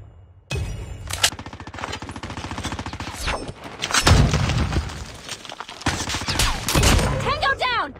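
Rapid automatic gunfire and bursts crackle through a tactical bomb-mode shooter video game, dense volleys with short pauses and sharp bangs, loud and close, while game voice callouts speak between shots.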